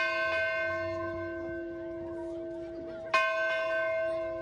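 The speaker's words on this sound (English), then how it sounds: "This bell was ringing loud and proud" A university bell rings at the March Through the Arch celebration, with a sustained, resonant tone and a fresh loud strike partway through whose ringing decays slowly.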